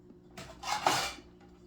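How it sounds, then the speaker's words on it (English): Bread pakoda set down on a plate in a home kitchen, a short clatter of dishware lasting about a second, fairly quiet and close, with no talking. "place them on a plate"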